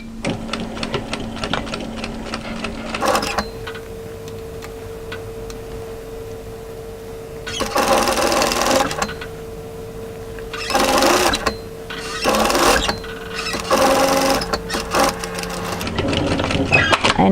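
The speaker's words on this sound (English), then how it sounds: "I'm going to stitch this starting at the side seam, the underarm position" Domestic sewing machine stitching a garment side seam at the underarm through an overlocked line, in several short bursts of rapid stitching separated by pauses, with a steady hum between runs.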